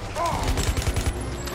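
Jax's hidden missiles fire in the fighting game Mortal Kombat vs DC Universe as a loud, rapid burst of several booming blasts, each following the last in quick succession.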